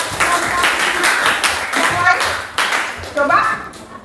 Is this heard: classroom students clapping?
yes